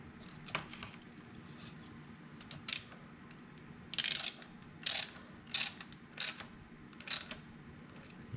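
A ratchet tightens a spark plug on a 2000 Toyota Echo in a series of short, faint clicking bursts, about seven strokes in an uneven rhythm with quiet gaps between them.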